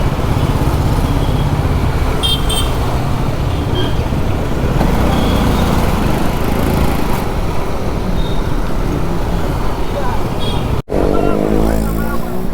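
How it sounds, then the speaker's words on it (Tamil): Busy road traffic with motorcycle engines and other vehicles, a loud continuous rumble of passing motors close by, with a horn-like tone briefly near the end. "புதன்கிழமையே இவ்வளோ டிராஃபிக்காக இருக்குது என்னன்னு தெரியல."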